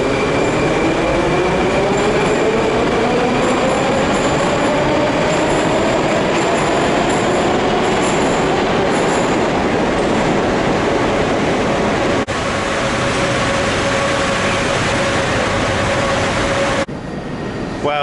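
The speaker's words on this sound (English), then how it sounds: "there's a train and I'm standing right above the train" A Moscow metro train rumbles loudly past close by, directly below, with a rising wheel whine and steady rolling roar that holds throughout.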